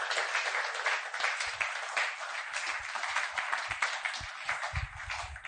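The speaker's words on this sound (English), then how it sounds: "A better round of applause, please." Audience at a success-tips event claps in a steady, continuous round of applause, bright and fairly close, with a few low thumps scattered through it.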